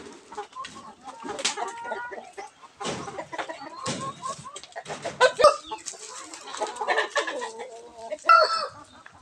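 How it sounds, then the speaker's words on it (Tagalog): Rhode Island Red rooster and hens clucking in a backyard flock, with irregular close clucks and squawks over a background of farm noise; someone talks faintly in between. "Yan, ito yung RIR natin Agaw"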